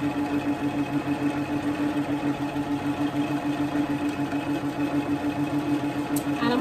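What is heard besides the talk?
sewing machine sewing a straight stitch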